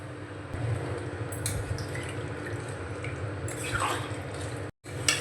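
Water is poured into a pot of mutton and potato curry, giving a steady soft splashing and trickling over background noise, ending in a brief cutoff.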